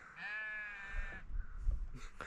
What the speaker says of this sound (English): there is a sheep up there just screaming his head off because we're here